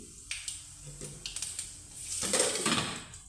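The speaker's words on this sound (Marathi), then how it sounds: "कढीपत्ता उडतो म्हणून मी त्याच्यावर झाकण ठेवले" Curry leaves splutter and crackle in hot oil with mustard seeds, cumin and asafoetida; scattered close pops are followed by a metal lid set on the pan and a louder burst of hissing.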